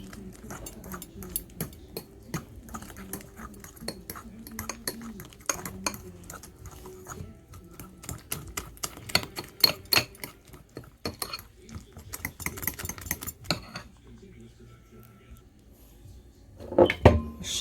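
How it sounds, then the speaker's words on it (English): Banana bread batter being stirred in a bowl with utensils, giving irregular scraping and clinking of metal against the bowl, quiet and close, with brief pauses and a louder knock near the end. "I'm gonna mix it all up."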